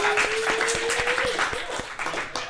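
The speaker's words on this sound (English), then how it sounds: "Let's clap again." Audience applause and clapping at a company presentation event, a lively wash of many hands clapping under cheers and a voice, with a few sharp individual claps standing out.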